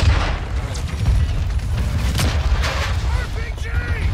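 Dense Modern Warfare 2 combat with RPG rocket fire and explosions: continuous loud booming and gunfire throughout, with several sharper blasts and whooshing sweeps layered over a heavy low rumble.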